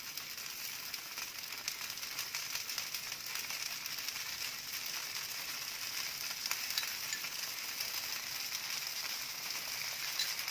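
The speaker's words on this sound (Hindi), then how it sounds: "अब इस पे थोड़ा ऑयल डालेंगे, पहले साइड्स पे, फिर बीच में" Suji rava dosa sizzling on a hot pan as oil is drizzled around the edges and center, a steady close crackling fry that holds evenly throughout with no talking.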